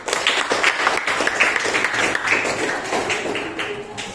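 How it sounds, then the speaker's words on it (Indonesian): A group claps together in a classroom or workshop setting, a dense, steady patter of many hands that fills the whole stretch with no break and no voices. "Oke, tepuk tangan untuk kita semua."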